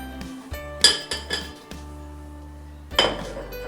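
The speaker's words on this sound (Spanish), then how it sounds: "Entonces vamos a agregarlos a la licuadora." Ingredients for tortilla soup, such as onion and garlic, dropped into a glass blender jar, heard as a few sharp clinks and knocks against the glass with brief quiet gaps and a low steady background hum.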